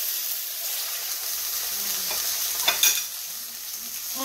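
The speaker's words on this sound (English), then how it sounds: "So I took a piece of fat from the steak, and I'm coating my pan. I put some garlic," Minced garlic frying in rendered steak fat in a pan for Sicilian-style steak pizzaiola, a steady soft sizzle with a few brief stirring scrapes near the end, close and alone without voices.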